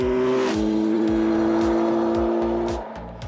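A 2017 Kawasaki Z900 motorcycle roars at full throttle, its engine and exhaust loud and close, climbing through rapid revs with quick gear changes in a steady series of rising pulls.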